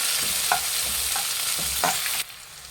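Finely chopped onions frying with chana dal and urad dal for mango shavige bhath, a steady close sizzle with a few stirring scrapes, cutting off sharply near the end; no talking.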